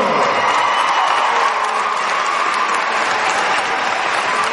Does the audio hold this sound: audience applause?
yes